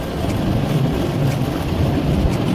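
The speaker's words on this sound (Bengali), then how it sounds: "অসাধারণ নৌকাগুলো ছুটে চলেছে" Boats speed along a river at Sariakandi in the monsoon, heard as a loud, steady rushing roar of wind and water with heavy wind buffeting the microphone. No one speaks.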